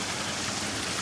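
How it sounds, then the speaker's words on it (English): Waterfall pouring into a pool at its base, heard up close as a steady, dense broadband rush of falling water with no break or change across the moment. "Bottom of the waterfall."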